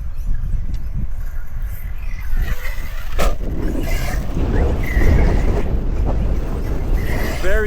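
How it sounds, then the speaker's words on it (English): Strong wind buffets an outdoor microphone, making a constant low rumble and gusty roar for the whole stretch. A brief sharp clatter sounds partway through, and there is no speech. It comes from an RC truggy drive session with an ARRMA Talion EXB 1/7 scale on 4S. "Very windy, so apologies for the wind noise."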